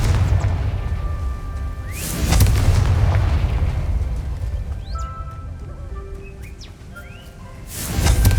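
A Confringo fire spell explodes in Hogwarts Legacy, landing as two heavy, booming blasts several seconds apart, with faint birdsong chirping in the quieter stretch between them.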